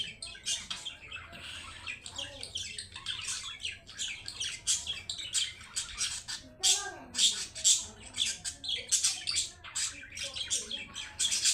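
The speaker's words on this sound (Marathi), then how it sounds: "खूपच छान आहे बाबा मयूर" Peacocks at Morachi Chincholi give a string of loud, harsh squawking calls in repeated bursts, with other chirping birds around and people talking faintly in the background.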